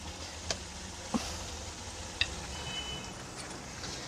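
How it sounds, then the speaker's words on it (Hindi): Meat and cauliflower (gobhi gosht) frying in oil in a pan: a faint, steady sizzle with a few sharp pops and ticks. "सिर्फ 3-4 मिनट पानी सुखाने तक हम भूनेंगे।"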